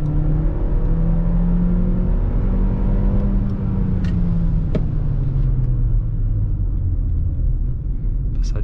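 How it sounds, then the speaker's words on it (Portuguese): A Hyundai New Tucson Turbo accelerating through city streets, its engine a steady, loud rumble with tones that slowly shift in pitch as the SUV gathers speed. "O carro tem uma aceleração legal aqui."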